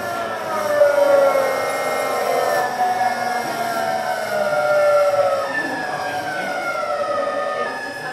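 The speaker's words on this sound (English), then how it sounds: "Let's listen to that gear changing as we slow down." An electric train's traction motor whines as the train slows, with layered tones sliding down in pitch in stages as it shifts gear, over a soft running rumble, with no voices.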